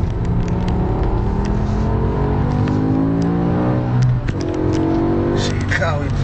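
Race BMW M5 with a 507 hp V10 accelerating hard on a track, a loud sustained engine note climbing through the gears with shifts, heard from inside the car with talking over it.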